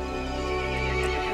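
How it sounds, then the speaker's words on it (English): A horse whinnies loudly in the video game Resident Evil Village, a sustained neigh over a steady droning game background, close and alone without talk. "The horse grew angry and summoned the other monsters."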